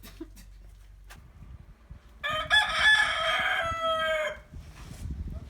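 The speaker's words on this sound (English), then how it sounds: "Cockerel's a bit stressed out" A rooster crows loudly once, a long bright drawn-out call, over a low background rumble.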